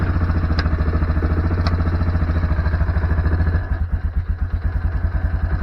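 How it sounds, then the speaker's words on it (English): A small engine idles on half choke while warming up in snowy cold, with a loud, fast, steady chugging pulse close by that slows and roughens toward the end, along with a couple of faint clicks. "Gotta let that engine warm up."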